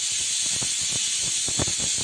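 Steady, loud hiss of steam escaping a pressure cooker cooking dal and rice fills the whole clip, with faint low thumps and clatter underneath.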